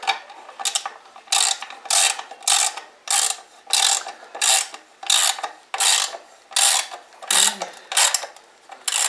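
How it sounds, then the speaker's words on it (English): A hand ratchet tightens a skid plate bolt on a Husqvarna FC 250 dirt bike, giving a loud, close series of about a dozen rhythmic clicking bursts, one every half second or so, with no talk. "This is a little loose for the ratchet to go, so it won't ratchet out, but once I get to a point of it, it'll work."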